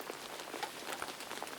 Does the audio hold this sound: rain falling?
yes